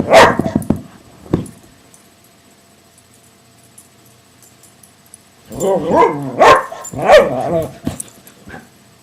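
A dog barks and yips in short bursts, a few sharp calls at the start, then a quiet gap before a clustered run of loud, close barks and whimpers, with no talk alongside.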